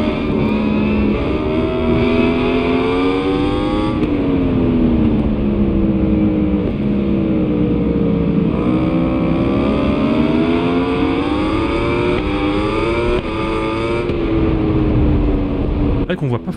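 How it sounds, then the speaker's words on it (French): A loud, continuous motorcycle engine in the video game SBK 22 drones and revs, its pitch rising and falling through gear changes, with a voice talking over it. "le bruit du moteur, tout ça."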